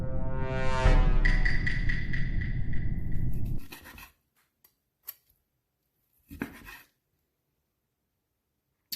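A knife saws through a cooked steak with a steady, close scraping and rubbing for a few seconds, then stops, leaving near silence broken by a few faint clicks and taps.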